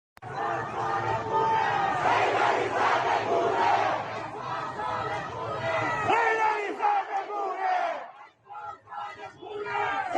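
A large protest crowd chants in rhythmic unison on a street in Tehran, Iran, loud and close for several seconds before the chant breaks apart into scattered shouts and quieter stretches.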